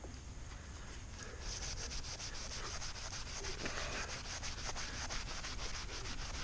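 Aluminum car parts from a Honda Prelude being scrubbed in a bucket with Scotch pads and a nylon brush, a steady close abrasive rubbing with quick repeated strokes.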